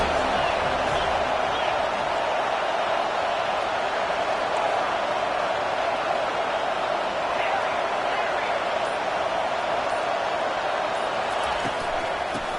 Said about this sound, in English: They are pinned deep, and this crowd is letting them have it.